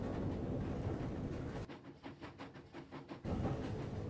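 A moving train in the Harry Potter and the Prisoner of Azkaban video game gives a dense rumbling roar that briefly softens into rhythmic clacking before the full rush returns, with no voices.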